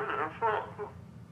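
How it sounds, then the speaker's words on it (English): Muffled, tinny speakerphone voice from a video game set at a Michigan train wreck, babbling in garbled wah-wah tones like Charlie Brown's teacher, in short unintelligible bursts. "They're able to understand, but to us, they sound like the teacher from Charlie Brown."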